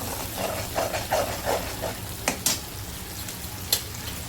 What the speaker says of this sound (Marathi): तेलामध्ये मस्त पकलं आता आपण याच्यामध्ये आपले पावडर मसाले टाकू